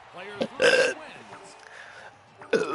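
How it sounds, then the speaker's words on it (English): Loud, deep burps are forced right into a close microphone. Two main belches come about two seconds apart, with softer throaty noises between them. "So you get some bonus burps"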